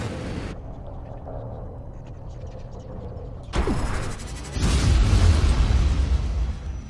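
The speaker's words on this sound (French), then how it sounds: "explosion kinétique." A kinetic explosion power in the sci-fi video game Prey, heard as a sudden loud burst with a roaring, crackling wash of debris that swells and stays loud after a quieter stretch of game ambience.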